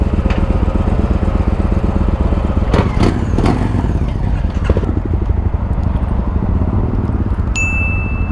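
A Honda Grom motorcycle engine runs close by with a loud, throbbing, pulsing exhaust note, punctuated by a few sharp clanks and rattles in the middle before the revs settle.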